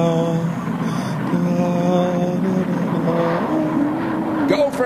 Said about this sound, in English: Codependent Air Force planes.